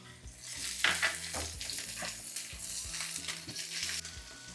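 Capsicum pieces sizzle and fry with onions and green chillies in hot oil with cashews for paneer majestic, a steady close crackle broken by stirring scrapes across the pan.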